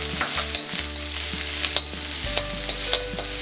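Finely chopped onion fries on full gas for Gobi Manchurian, a steady close sizzle with light stirring scrapes and a low stove hum underneath, no voices.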